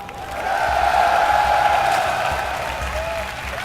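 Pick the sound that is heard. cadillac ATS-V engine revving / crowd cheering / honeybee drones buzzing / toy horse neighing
crowd cheering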